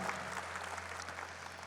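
A congregation at a Catholic Mass for families claps together in steady, dense applause. The clapping is faint and distant over a low electrical hum.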